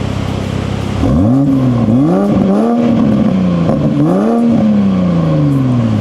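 A BMW Z4 M40i fitted with a titanium exhaust, set to eco mode with its valves closed, revs repeatedly at close range after a brief quiet start, each blip rising and falling in a steady, loud pattern.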